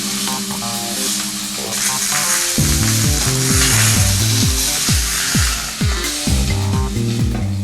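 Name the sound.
meat browning in a Durotherm pan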